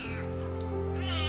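A small, fragile kitten at a Singapore veterinary clinic, recovering from glue removal, gives one sustained close meow that rises slightly toward its end.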